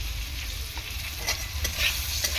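Potatoes sautéing in a pan with green chilli and cumin powder, a steady close sizzle and frying hiss with occasional stirring scrapes of the spoon throughout.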